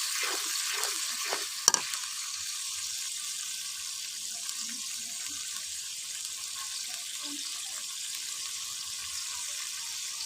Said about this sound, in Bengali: সুন্দর করে এটাকে নাড়াচাড়া দিয়ে নিচ্ছি।